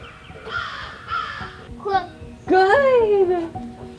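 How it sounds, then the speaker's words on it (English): A crow caws loudly several times in a row, close by, the last calls the longest and harshest, against a faint background hum. "it's a crow"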